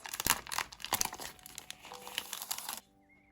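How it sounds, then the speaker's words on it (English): Sheets of decorative craft paper being torn and crinkled while making a phone case, with quick, close, crisp rips and rustles repeating for about three seconds before stopping. "The sound of tearing paper always relaxes me."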